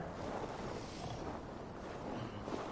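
Wind rushes before a storm in the video game AC Valhalla, a steady, fairly quiet broadband roar with slight gusting and no voices.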